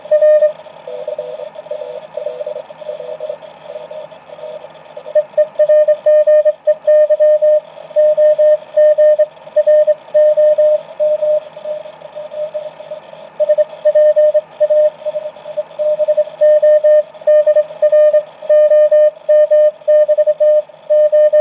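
A uSDX QRP amateur radio transceiver on the 20-meter band receives telegraph signals: a steady beeping Morse tone keys on and off in rapid rhythm over a faint hiss, clear and continuous.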